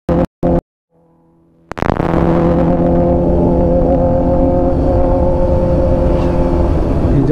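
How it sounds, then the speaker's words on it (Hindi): A Kawasaki sport bike approaches on a Goa highway, its engine rising from a faint whine to a loud, sustained roar close by. "मैं समझ गया कोई तो गाड़ी स्पोर्ट बाइक आ रहा है पीछे से करके"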